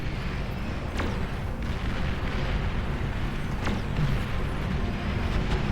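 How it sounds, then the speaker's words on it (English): Cannons fire in the real-time strategy game Beyond All Reason, with a few sharp distant booms breaking through a constant low rumble of battle noise. "These were some nice cannons by orange."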